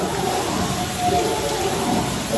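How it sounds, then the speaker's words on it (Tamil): Dense, steady crackling and sizzling of mustard seeds spluttering in hot coconut oil in a pan, loud and close, continuous without pauses or voices. "ஒரு அரை ஸ்பூன் போட்டு தான் கடுகு போடுறேன்"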